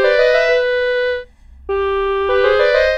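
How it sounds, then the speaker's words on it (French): A bright triangle-wave synthesized melody of sustained, slightly reedy oboe-like notes, with a brief dip in the middle before the line resumes, played alone. "C'est un son de hautbois, les ondes triangulaires."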